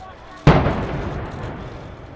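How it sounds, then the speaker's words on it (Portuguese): A single sharp blast goes off during a police raid on a kosher supermarket in eastern Paris, hitting suddenly and loudly, then trailing into a long, rumbling wash of noise and echo. "A ação policial começou com uma explosão."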